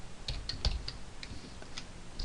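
Quick, light keystrokes on a computer keyboard, a scattered run of soft clicks at close range in a quiet room.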